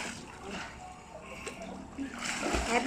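Someone jumps into water and lands with a loud, close splash near the end, after a stretch of quieter water movement and faint background voices.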